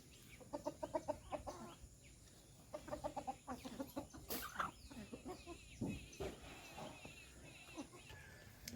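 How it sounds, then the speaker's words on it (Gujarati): Rooster calling and clucking outdoors at a family home, several short bursts of calls in the first seconds and again around the middle, with background birds chirping and faint voices nearby. "લે કુકડો છે ને ત્યાં"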